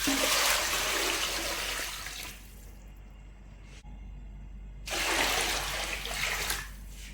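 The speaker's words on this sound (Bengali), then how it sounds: "এখানে আমি পানি নিয়েছি পানি দিয়ে দেবো এখন" Water is poured into a cooking pot in two rushing, splashing pours separated by a quiet pause with a small knock, close and moderately loud.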